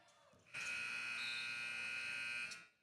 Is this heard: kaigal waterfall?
no